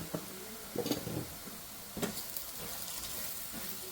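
Spicy Kerala-style pork frying with pepper and chili powder, a quiet hissing sizzle with a few soft stirring scrapes and clicks, heard alone without voices.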